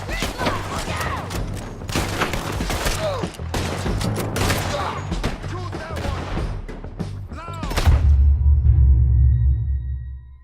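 A Red Dead Redemption 2 shootout crackles with rapid, repeated gunshots fired close and far, mixed with shouting voices, then ends in a deep rumbling boom.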